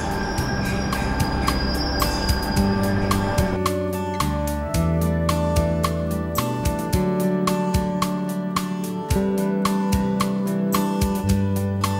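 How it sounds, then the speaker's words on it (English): Steady rumbling of a Chinese high-speed train in motion, heard from inside, with rail clatter, a faint squeal of wheels and shifting hum throughout, no voices. "Now we're on the train. We're going to Jiaxing, a nearby Tier 3 city. This is a high-speed rail."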